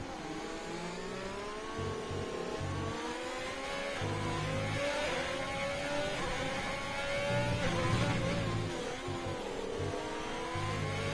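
Race car engine in a sim racing event at the Russian Grand Prix, held loud and close throughout, rising and falling in pitch through gear changes with steady revving and no talk.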